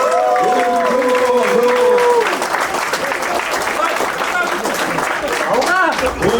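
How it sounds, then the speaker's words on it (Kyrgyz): Loud, sustained applause from a crowd at a Kyrgyz wedding celebration in Chicago, steady clapping throughout with someone speaking over it. "Кол чабуулар аммага кол чабуулар сиздер үчүн"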